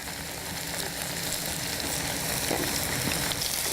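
Balinese fish cakes seasoned with bumbu genap fry in a pan with a steady, even sizzle that holds without a break.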